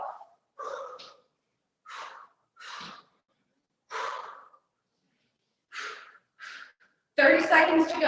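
Heavy breathing during a kettlebell clean and press workout comes as a series of short, sharp exhales and breaths spaced apart close to the mic, ending in a louder, longer burst of breath.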